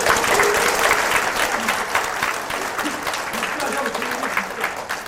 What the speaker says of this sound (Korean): 여러분 이 대목에서 진짜 격려의 박수 좀 쳐주세요.